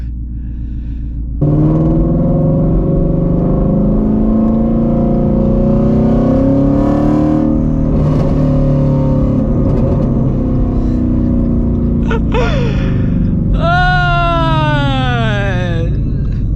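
Exhaust of a 2020 Ford Shelby GT350 revving up close: a loud, rough drone kicks in after a short quieter idle, holds and surges, then ends in rising and falling pitch sweeps from quick throttle blips.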